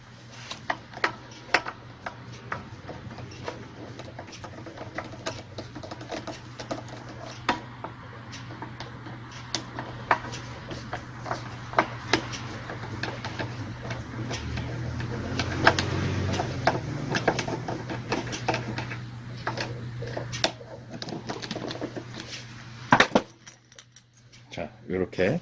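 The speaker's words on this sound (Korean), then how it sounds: "볼트 2개를 풀어줍니다." Bolts being unscrewed from the carburetor of a fertilizer blower, with small metallic ticks and clinks of tool and parts repeating throughout, close and fairly quiet over a steady low hum.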